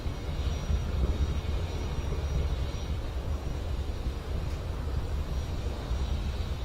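A Falcon 9 rocket climbing after launch from Space Launch Complex 40 at Cape Canaveral, passing supersonic speed; a steady, distant broadband roar and rumble holds evenly throughout with no voices.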